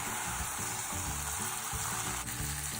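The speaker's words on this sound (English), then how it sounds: "we're gonna keep stirring the onions around. We want them to get a little bit soft. And remember, keep it on medium heat." Onions sauté in a pan over medium heat with a constant, even sizzle and occasional soft stirring scrapes underneath, close up and unbroken by talk.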